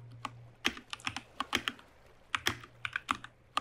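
Someone types code on a computer keyboard while building a simple Java HTTP server in IntelliJ IDEA, giving close, quiet bursts of rapid keystrokes with a short pause midway.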